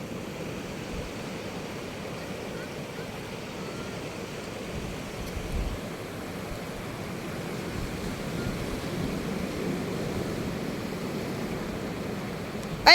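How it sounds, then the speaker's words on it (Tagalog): Sea waves crash against the rocks at Dilasag, Aurora, in a continuous broad roar of surf that swells and eases without a break. "Yung hampas ng alon."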